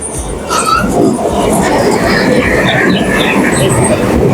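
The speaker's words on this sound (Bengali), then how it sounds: "এই যে ট্রেন দেখেন চলে যাচ্ছে" A driverless amusement park ride train carrying children rolls past at Beauty Park in Shibganj, Bogura, with a loud continuous rumble and rattle that holds steady throughout after a quieter start.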